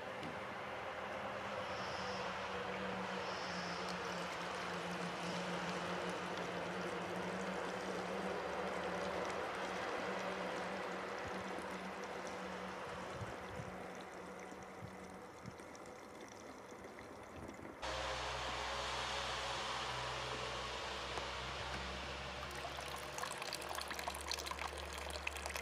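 Rainwater pours steadily into a gravity filter built with two filtration stages and a pool filter, a continuous broad rushing that shifts to a deeper, fuller tone partway through.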